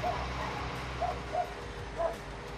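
A few short dog barks and yips sound in the background of a Farming Simulator 19 corn harvest session, spaced irregularly and fairly faint beneath a low steady hum.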